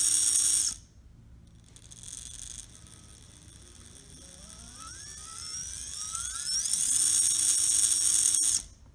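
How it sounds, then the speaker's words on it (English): A BAM motor in an SCX24 RC crawler on a Furitek Scythe V2 chassis spins up to top speed. A buzzing whine climbs steadily in pitch, holds high and loud, then cuts off abruptly. "here we are with the correct BAM motor installed. And let's see this top speed."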